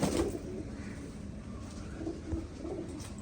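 Pigeons in a rooftop loft cooing softly, a few low rolling coos rising and falling close by over a steady background murmur.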